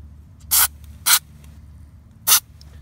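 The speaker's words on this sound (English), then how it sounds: "Be nice if they made these cans so you could get a small spray." Aerosol lubricant can spraying onto the sliding door latch mechanism of a 2005-2010 Honda Odyssey: three short, loud hissing bursts, the first two close together and the third after a pause.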